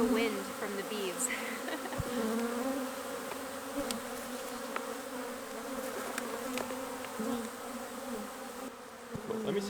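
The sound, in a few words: bees buzzing while flying around hives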